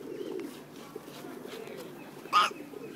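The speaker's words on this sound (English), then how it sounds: "Pigeon." A pigeon gives a single short coo near the end, loud and close, over a steady outdoor background with faint human voices at the start.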